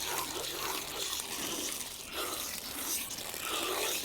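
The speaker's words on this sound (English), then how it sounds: "Then we can take the carcass and spray it down." Water sprays steadily from a hose nozzle onto a freshly gutted chicken carcass on a processing table, a continuous close hiss with slight shifts as the spray moves across it.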